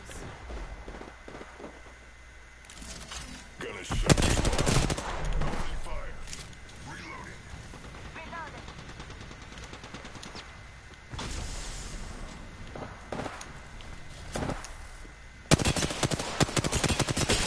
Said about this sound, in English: There's they're shooting in front of me